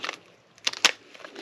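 A package is cut open, a few short crunching and tearing snips close by with a brief pause between them.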